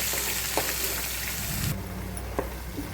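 Mint paste sizzling in a pan while cooking pudina rice, a steady frying hiss with a few clinks of stirring, close and moderately loud, no talking.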